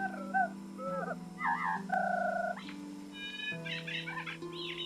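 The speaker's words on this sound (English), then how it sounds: "There is one tree in the Caro village that we added some weird birds." Odd synthetic bird calls chirp and warble from a tree in a video game village, with short squeaky phrases in quick succession over a steady droning tone.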